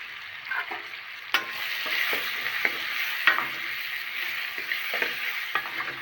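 Spiced masala and tomatoes fry in a pan for a shallot tamarind curry, giving a continuous close sizzle broken by the irregular scrapes and knocks of stirring.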